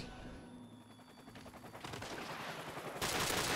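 Gunfire in Call of Duty 4: Modern Warfare multiplayer, with rapid automatic shots building in intensity and ending in a loud sustained burst close by.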